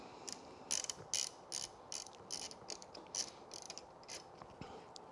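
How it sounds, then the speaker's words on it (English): Nuts loosened with an E13 external Torx socket on a ratchet while removing the seats from a 2021 Toyota Tacoma: close, quick metallic ratcheting clicks in short repeated bursts with brief pauses between them. "go ahead and loosen those nuts"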